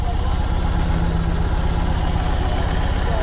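A 2021 BMW R 18 motorcycle engine idles with a steady, loud, low throbbing rumble that continues unbroken throughout, heard close up.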